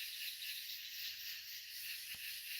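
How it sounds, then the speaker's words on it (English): Crickets chirr outdoors at night, a thin, steady high-pitched trill held continuously at low level, broken once by a brief soft thump, with no voices present. "You hear crickets."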